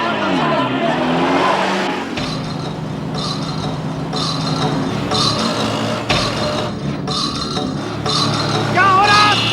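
A car speeding with tires skidding and squealing, a loud continuous engine roar with clinks and squeals, while voices shout over it.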